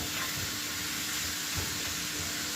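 Diced potato and minced meat fry in a pan, giving a steady close sizzling hiss with faint crackles, no voice.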